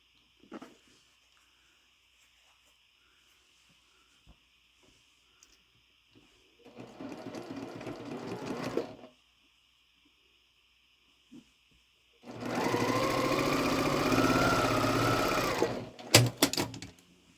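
A sewing machine stitches quilt fabric for a Halloween quilt in two separate bursts, the second longer and louder, with near-silent pauses between them.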